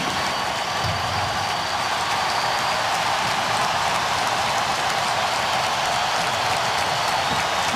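Hockey arena crowd roaring with dense, sustained applause and cheering at the final seconds of an NHL game, Columbus Blue Jackets home win over the New York Islanders, a steady loud wash of noise throughout.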